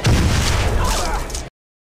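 In a film scene, a gunshot blows a creature's head apart: a loud, dense, booming blast with a wet, crackling spray that holds for about a second and a half before cutting to silence.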